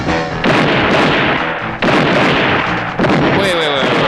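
Gunfire and explosive bursts ring out from a revenge-themed action movie trailer starring Gary Conway, coming in three loud, dense volleys separated by brief drops, with a whistling tone near the end.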